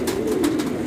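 A big-boned tournament racing pigeon coos in a low, steady, continuous purr up close, with no talk over it.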